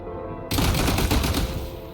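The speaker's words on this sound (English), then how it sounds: "Shoot the explosives to detonate them and clear the path." In Genshin Impact, explosives are shot and detonated, bursting in abruptly after a quiet moment into a loud, sustained blast and rumble that slowly fades.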